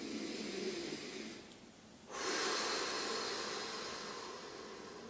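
One long, deep breath taken during a breathing exercise, a slow breathy inhale that fades and is followed by a louder, sustained rushing exhale, close to the microphone with no talking.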